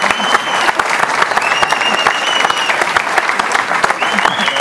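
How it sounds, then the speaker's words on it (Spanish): A loud round of applause rises for Harrison Murillo at a live comedy show, dense clapping throughout with a few whistles cutting through. "Un fuerte aplauso con mucho amor a Harrison Murillo"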